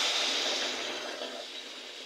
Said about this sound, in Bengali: আমি এখন পরিমাণ মতো গরম পানিটা দিয়ে দেব।